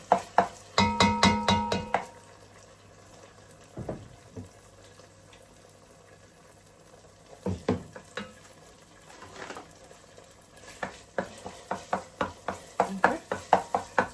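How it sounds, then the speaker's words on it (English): Tomato puree fries in olive oil in a pot for jollof, with bursts of stirring scrapes and clatter at the start and end and a steady low sizzle in between, close by. "So I'm going to stir it until it fries very well."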